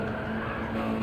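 A Mitsubishi Evo 3 braking hard on the Nürburgring in the game Gran Turismo 7, a steady high tyre squeal over engine drone, continuous and fairly loud for a brief moment.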